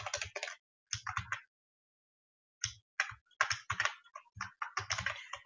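Computer keyboard keys typed in quick bursts entering a scientific-notation value, clusters of crisp clicks separated by a pause of about a second, close and alone with no talk.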